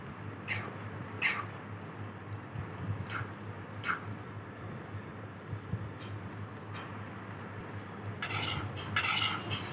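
Fried Malabar spinach fruit scraped and spooned into a dish, with soft stirring and scattered metallic clinks of a utensil against cookware, growing busier toward the end.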